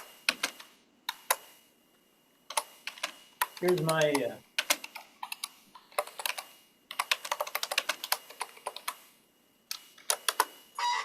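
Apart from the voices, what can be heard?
fast typing on a computer keyboard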